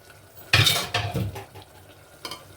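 Mutton rezala in a pot over a full flame, stirred and mixed with a spoon: a few loud scraping clanks against the metal with a soft sizzle beneath, close up and without talk.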